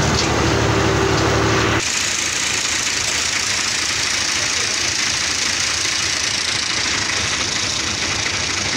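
A tractor engine runs loud and steady near a village road-construction site, a continuous broadband rumble that holds throughout, with a shift in tone early on as the tractor is boarded.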